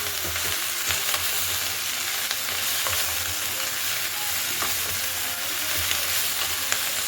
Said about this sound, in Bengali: পেঁয়াজটাকে দিয়ে সবজির সাথে ভালো করে মিশিয়ে নিতে হবে।